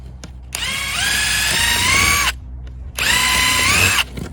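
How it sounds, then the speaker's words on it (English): Power drill boring a hole through a wooden chicken coop door, two sustained high whining runs of about two and one seconds, loud and close, with a short pause between. "Now we can drill"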